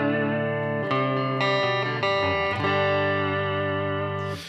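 Tagima TW-61 electric guitar played straight through an amplifier with no reverb, sustained chords with a few changes, loud and close with no talking.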